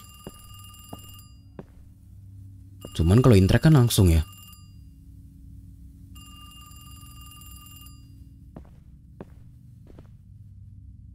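A telephone rings inside a horror video game set around a bus route, giving one loud burst of ringing in the middle with quiet tonal game ambience before and after, while someone speaks briefly.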